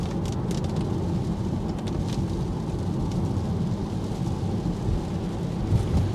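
Heavy rain drumming on a Tesla driving through a wet city with puddles and construction, a steady dense low roar with road and tire wash throughout, no voices.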